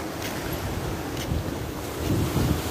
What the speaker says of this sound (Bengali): দেখেন পানিগুলো উপরে চলে আসতেছে